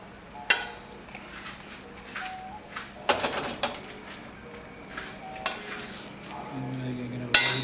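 Chicken stirred through a thickening sauce in a pan for chicken francaise, with soft sizzling and intermittent scraping and utensil clinks against the pan, a few sharper knocks standing out.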